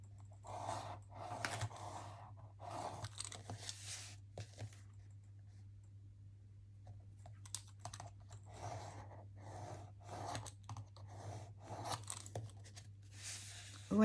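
Quiet, repeated rustling and pressing strokes as paper is creased firmly into folds while making a box, in short bursts separated by pauses over a steady low hum.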